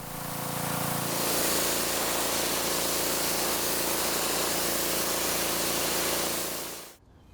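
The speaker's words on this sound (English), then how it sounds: "Now this came out pretty well just with the power washer" A power washer sprays a wooden deck, giving a loud, steady hissing spray over a constant motor hum that runs for about six seconds before cutting off abruptly.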